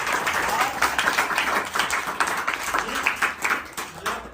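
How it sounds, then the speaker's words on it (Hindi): A Teacher's Day celebration crowd claps for itself in a 2023 gathering, a thick patter of many hands swelling and easing in waves for several seconds, fairly loud, with voices mixed in. "एक बार जोरदार तालियां आप लोग खुद के लिए बजाएं"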